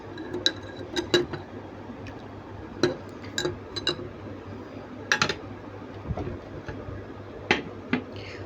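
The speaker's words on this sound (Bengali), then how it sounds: "খুব ভালো করে এটাকে মিশিয়ে নেড়ে নিতে হবে" Spoon clinking against a glass while stirring dum tea, a series of sharp, irregular ticks and chinks close by over a quiet background, with no voices.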